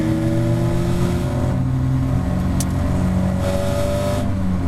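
Caterham Academy race cars driving through the corners at Oulton Park circuit: loud, sustained engine drone with shifting revs from several cars close together, recorded on-board with no talk.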